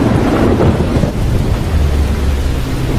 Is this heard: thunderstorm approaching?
yes